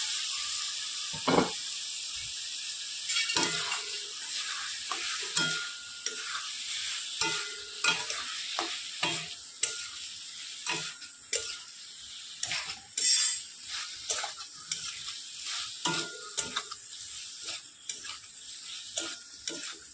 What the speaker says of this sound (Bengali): ভালোভাবে নেড়েচেড়ে মশলাটার সাথে সয়াবিনটাকে ভেজে নেব।